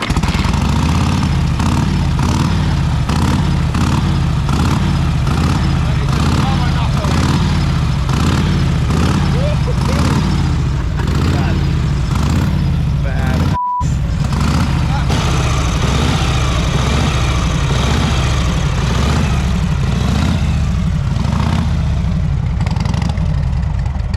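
A 76-year-old Harley-Davidson EL 1000 motorcycle engine runs loud and close with a steady, lumpy idle pulse, briefly cut out mid-way before chugging on, with people talking over it.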